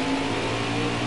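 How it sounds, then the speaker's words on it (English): A race car engine in a racing video game holds a steady, loud mid-pitched drone during victory burnouts on front-stretch grass at the Charlotte Roval, with no talking over it. "doing victory burnouts in the front grass"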